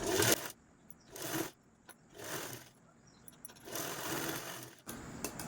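A sewing machine stitches blouse fabric in four short bursts of fast whirring separated by brief pauses, close and clear, with small clicks between runs and no talking.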